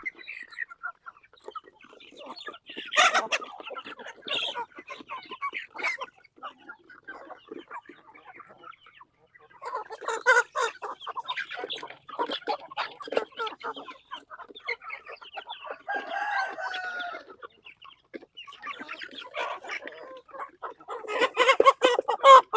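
Native chicken hens cluck on and off in short, irregular bursts, some louder calls rising over a busy background of scattered clucks.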